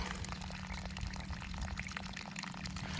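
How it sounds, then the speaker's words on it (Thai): Steady close trickle of water seeping from drip irrigation tape with emitters every 30 cm in a watermelon field under mulch sheeting, a dense continuous wet patter heard alone without voices. "น้ำหยดจะหยดลงทีละหยดทีละหยดไปเรื่อยนะครับ"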